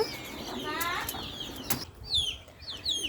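A short burst of a pigeon chick's wings flapping close by, followed by thin, high chirps from small birds.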